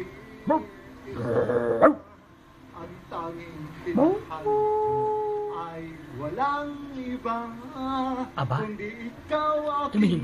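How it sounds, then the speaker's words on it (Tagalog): Dogs bark and yip in short bursts, some nearby and some farther off, mixed with other voices and background noise. "Ano yung mga aso?"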